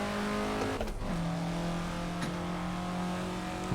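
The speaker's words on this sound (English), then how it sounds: "I did just do a burnout, so you know." Alfa Romeo GTA engine held at high revs in a racing video game at Thomson Road, with sustained steady drone and a brief rev dip near the start, consistent with a tyre burnout, no talking.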